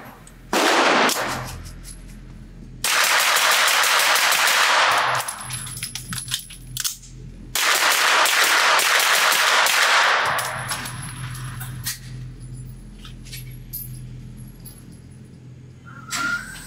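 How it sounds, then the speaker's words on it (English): Rapid fire from a SilencerCo Maxim 9 integrally suppressed semi-auto pistol at a shooting range: two long, fast strings of muffled, snappy shots, loud and close, each followed by metallic clinks and rattles as the firing stops. "let me see how fast I can shoot this and see if this is a naturally pointing firearm for me"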